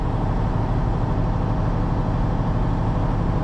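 A truck engine idles while the air tanks charge, a steady low diesel rumble that is close and constant for the whole stretch, with no voices.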